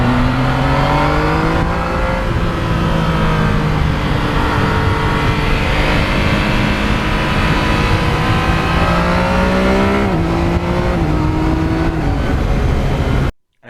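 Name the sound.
Yamaha MT-09 motorcycle engine while riding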